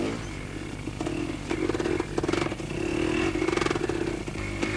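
A motorcycle is ridden slowly through mud, its engine revving in uneven surges and easing off, fairly close with some clatter under the engine note.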